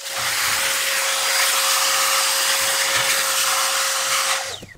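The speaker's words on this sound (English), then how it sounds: "I'm gonna use my vacuum and just carefully take out all the dust." A vacuum cleaner whines steadily and loudly as it sucks dust out of a desktop computer case, a continuous high airflow roar that winds down at the very end.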